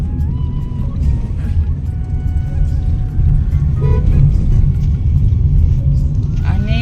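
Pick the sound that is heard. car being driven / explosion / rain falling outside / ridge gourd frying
car being driven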